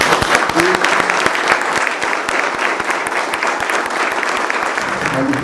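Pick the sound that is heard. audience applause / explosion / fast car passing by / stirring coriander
audience applause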